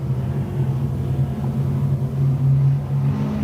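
Hobby stock cars racing at Shelby County Speedway, a steady loud engine drone and rumble from the pack heard at a distance with no clear passes, and no talking.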